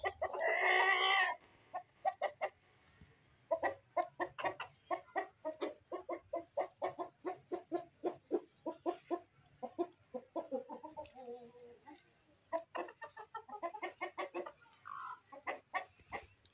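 Gold partridge Brahma chickens, including roosters, hens and chicks, cluck in a rapid, steady series of close calls, with a brief louder squawk at the start and softer chatter mixed in.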